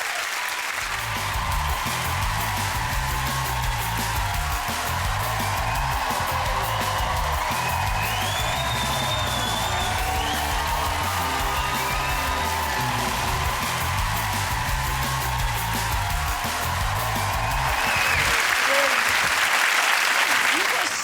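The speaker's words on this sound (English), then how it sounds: "Give it up for the wonderful Anna Friel" A television chat-show studio audience applauds and cheers as a guest actress comes on, dense sustained clapping with whoops all the way through and swelling louder near the end, a band playing beneath the crowd.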